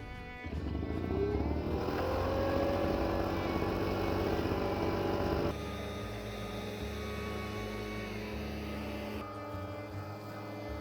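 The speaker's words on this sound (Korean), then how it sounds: "믹스터기 시동을 걸고 이제 한번 눈으로 주고" A mist blower engine runs steadily and loudly while spreading panicle fertilizer over a rice paddy. The droning engine holds a continuous harmonic hum and eases slightly in level partway through, with no voices.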